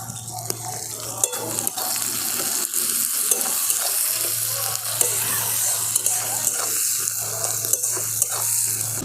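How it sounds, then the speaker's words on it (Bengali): Onions with a little salt sizzle in a pan in a rural kitchen, a steady crackling fry broken by repeated scraping stirs and small utensil taps. "পেঁয়াজটা ভাজা হতে থাক,"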